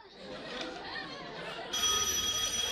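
Phone ringtone sounds on a freshers' day stage during a family comedy skit, a steady electronic ring starting partway and continuing loudly over hall chatter.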